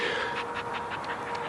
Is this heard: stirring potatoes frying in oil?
no